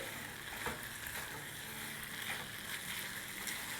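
Samosa filling with green coriander is stirred in a pan, giving a soft, continuous sizzle broken by faint scraping strokes.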